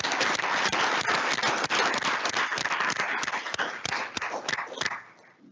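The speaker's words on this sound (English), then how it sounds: "Please give these students one more huge round of applause." Students receive applause from the audience at a regular school board meeting, a loud burst of many hands clapping that keeps up steadily, then thins out and fades away near the end.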